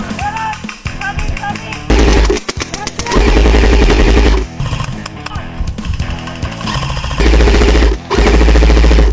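Airsoft guns rattle off in rapid bursts during a skirmish battle, loud and close, with repeated automatic strings of shots broken by brief pauses over about nine seconds.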